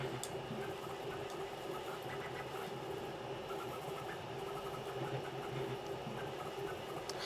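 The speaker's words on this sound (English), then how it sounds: "I might have to rotate the printer a bit so that the bed movement doesn't destroy the desk." A Rat Rig V-Minion 3D printer running at high speed on a desk, its motors and moving bed giving a steady mechanical whir and buzz with a constant rumble of desk vibration, close and unbroken throughout.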